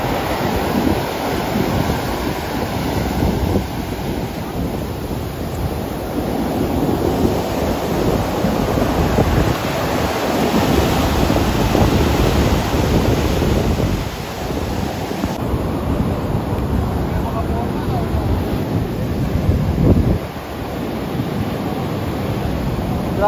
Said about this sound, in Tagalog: Grabe talaga yung lakas ng alon